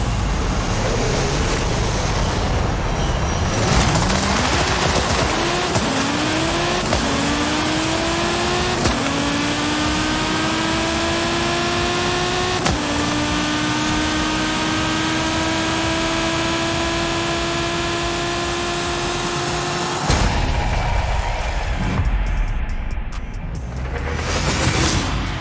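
An older Volkswagen Golf with anti-lag in Forza Horizon 5 revs hard through several rising gear pulls, each shift marked by a brief drop, then crackles and pops from the anti-lag as it backs off, loud and close throughout.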